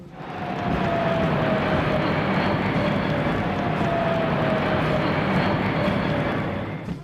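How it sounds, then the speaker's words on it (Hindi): Three C-130 transport aircraft fly in formation over the Republic Day parade on Rajpath, making a steady, loud propeller-engine roar with a faint droning tone that swells in and eases off at the end. "पांचवा फॉर्मेशन तरन होगा जिसके तहत 3C-130 फॉर्मेशन में उड़ान भरेगा।"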